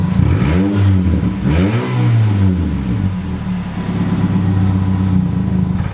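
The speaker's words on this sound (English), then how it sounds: "Sentra, which has a pretty bad exhaust leak" A Nissan Sentra engine with a bad exhaust leak revs up and down a few times, its note rising and falling, then settles into a rough, steady, loud idle with a raspy, leaky exhaust rumble.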